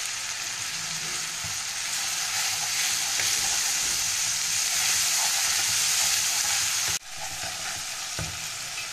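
Onion paste, tomato and ginger paste fry in hot oil, a steady close sizzle with stirring for a Bengali rui fish curry, briefly interrupted by a clatter near the end before the sizzling resumes.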